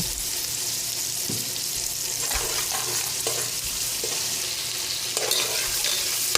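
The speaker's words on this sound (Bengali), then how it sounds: "মাছ হয়ে গেছে এখন পেঁয়াজ কাঁচামরিচ দিয়ে দিতেছি" Onions and green chilies frying in a pan alongside pangas fish, with a steady close sizzle and occasional scraping stir strokes, no talking.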